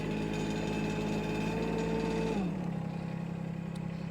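A 1.2-ton Chinese mini excavator's engine drones steadily, then its pitch drops smoothly as the throttle is brought down and it settles into a lower, quieter idle.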